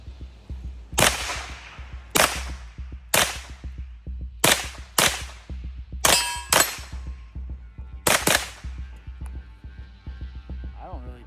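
Suppressed gunshots with 115-grain rounds crack out one by one at irregular intervals, each a sharp loud report with a brief ringing tail, a faint hum between shots.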